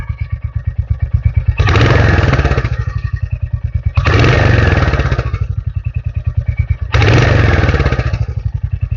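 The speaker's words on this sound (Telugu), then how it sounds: "ఒకసారి మీకు ఎగ్జాస్ట్ నోట్ కూడా వినిపిస్తాను" A Royal Enfield Hunter 350 idles with a rapid, even exhaust thump, rising into three loud, sustained revs that each drop back to the chugging idle, heard close and alone.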